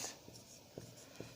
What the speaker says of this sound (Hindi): फिर भी हम यहाँ भी आपको लिख दे रहे हैं